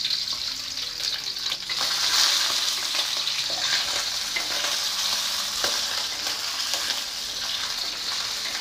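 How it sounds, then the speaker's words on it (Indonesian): Shrimp frying in a pan with oil, a steady, close hiss of sizzling that runs throughout with occasional stirring scrapes, no voices. "goreng dulu udang"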